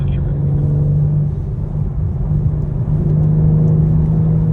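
A BMW M3 engine drones steadily on track at Sonoma Speedway under light throttle, a loud, close, even rumble with slight swells and no clear gearshifts.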